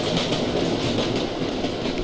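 A train rumbles steadily past in a video game city, a continuous loud clatter of wheels on rails with no voices over it.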